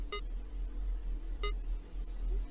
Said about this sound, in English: Okay, stop ringing the phone.